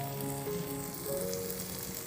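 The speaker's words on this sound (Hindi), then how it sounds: "दो चम्मच घी भी डालूंगी," Two spoonfuls of ghee sizzle in a pan while a home remedy for cold and cough is cooked, giving a faint, steady crackling hiss that runs evenly throughout with no talking.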